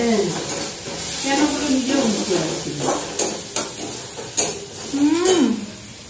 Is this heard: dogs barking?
no